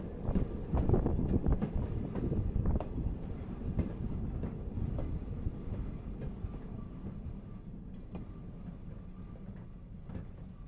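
Maryland & Pennsylvania Railroad motor car rolling along the rails, a steady loud rumble with rhythmic clacks from the wheels over rail joints and some wind buffeting, no voices.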